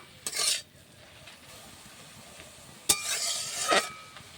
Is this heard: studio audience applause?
no